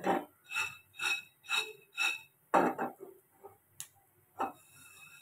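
Peanuts roast on a griddle pan that is shaken in steady pulses, a rhythmic rattling swish repeated several times, then a few looser, uneven shakes and taps.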